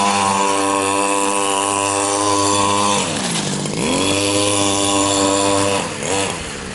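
A Ford coupe's small G23 motor runs loud and steady, a droning buzz with a strong even tone that dips and swells around the middle as the load changes, then settles again.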